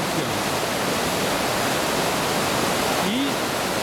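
River rapids rush in a dense, unbroken roar of churning white water around a boat, loud and close for the whole stretch, with a brief faint tone near the end.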